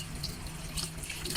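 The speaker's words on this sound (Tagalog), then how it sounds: "Tapos tutubigan natin na siya." Water poured from a tap onto mixed sweet potato leaves, a faint, steady splashing rush heard alone for a brief moment.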